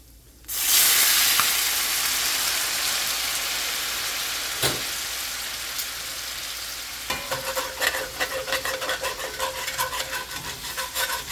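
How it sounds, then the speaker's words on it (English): Chardonnay hitting a hot cast iron pan to deglaze the fond, a sudden loud sizzle that hisses steadily, then scraping strokes from a utensil rasp repeatedly across the pan bottom. "we're gonna scrape up all that fond with the help of some lovely Chardonnay."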